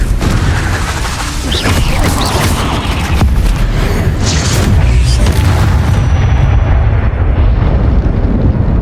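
A Confringo blasting spell explodes in the Hogwarts Legacy video game, a loud, dense booming blast with crackling debris that rolls on continuously for several seconds among other spell effects.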